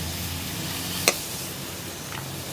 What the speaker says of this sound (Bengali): ফুলকপিটা হালকা করে ভেজে দিলাম এবার খিচুড়ির মধ্যেই দিয়ে দেবো